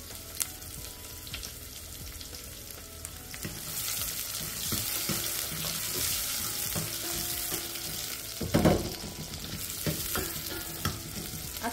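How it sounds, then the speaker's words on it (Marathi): Onion and tomato sautéing in a pan with mustard seeds and urad dal, a steady sizzle under repeated stirring scrapes that swells louder near the end. "आता आपण कांदा टमाटे परतून घेणार आहोत"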